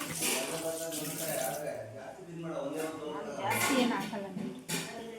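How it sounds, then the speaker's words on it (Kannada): Water is poured into a mixer grinder jar in a home kitchen, a steady running splash that continues under near, almost constant talking. "ನೀರು ಬೇಕು ಅಂದರೆ ಒಂದು ಸ್ವಲ್ಪ ರುಬ್ಬಿರೋ ಜಾರ್ ಒಳಗಡೆ ಹಾಕ್ಕೊಂಡು"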